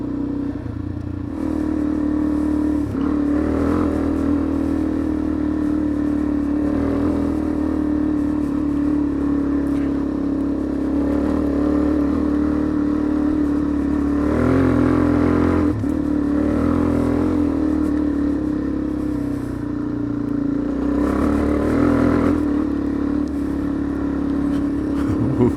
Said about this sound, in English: tyres spinning through the dust.